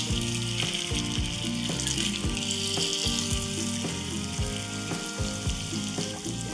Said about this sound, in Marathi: आता आपण हे शॅलो फ्राय करूयात. सो हे गरम तेलामध्ये आपण घालून घेऊयात.